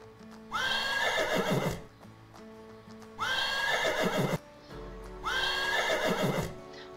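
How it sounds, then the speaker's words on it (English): A horse whinnies loudly three times in a row, each long neigh separated by a brief pause, clear and close with no talk. "Horse."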